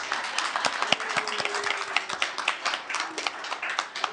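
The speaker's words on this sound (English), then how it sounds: "Permission to clap this one time." Applause from an audience at a Richmond city council candidates' election forum, a steady patter of individual claps forming a moderate, sustained round with no speech over it.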